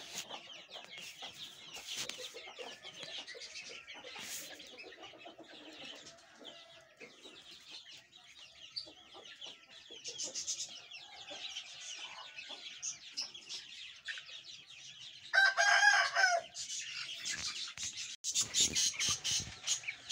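Chickens and a rooster on a poultry farm where hens sit on eggs and chicks have hatched: steady clucking and squawks through the clip, with louder bursts of crowing near the end.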